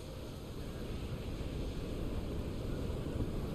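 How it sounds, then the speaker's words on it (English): Stormy sea in Assassin's Creed IV: hurricane wind roars steadily around a sailing ship while heavy waves surge, a dense, continuous low rumble with no pauses. "We're heading into the storm."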